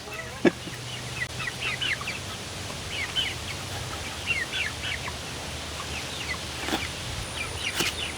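Nervous chickens inside a greenhouse let out scattered soft clucks and chirps, faint and fairly distant, over a low background hum, with a couple of sharp knocks near the start and end.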